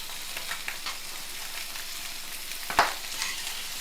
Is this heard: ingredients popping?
yes